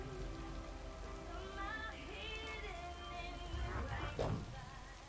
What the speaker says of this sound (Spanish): Más rápido que está lloviendo, te va a mojar toda